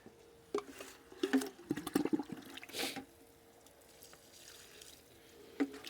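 Water poured from a container onto garden plants, a few short splashing gushes and trickles close by, followed by quieter drips and a final small splash.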